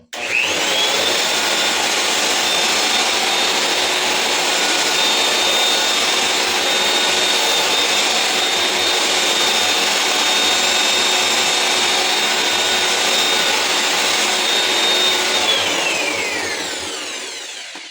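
Wall and ceiling drywall sander fitted with 80-grit paper runs for about sixteen seconds, a loud steady whining motor with a constant high tone, then winds down at the end.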